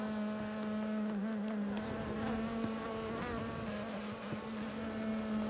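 Honey bees swarm around a top bar hive in a dense, steady buzzing drone that stays close and constant throughout, with individual wingbeats flickering over a low hum.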